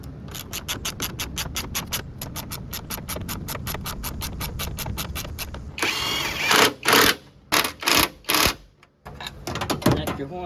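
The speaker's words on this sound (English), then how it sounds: "now I'm going to thread in all these bolts or screw them in" Bolts being driven into the radiator support of a 2005 Toyota Camry with a 2AZ-FE engine, first a rapid, even ratcheting clatter, then several loud bursts of power-tool whirring separated by brief pauses.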